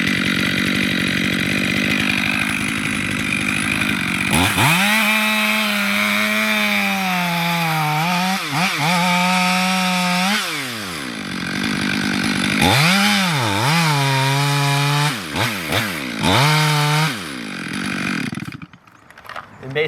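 A chainsaw plunge-cuts straight into a large tree trunk, engine loud and close, revving up and down in repeated surges as the bar bites into the wood, then dropping to idle at the end.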